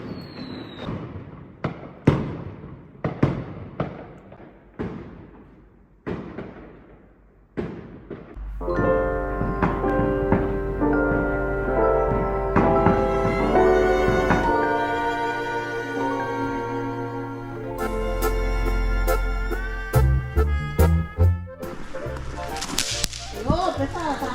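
Chinese New Year fireworks set off by neighbors on a rainy night: a run of sharp, loud cracking bangs, then dense crackling bursts and rumbling booms layered together, some near and some farther off.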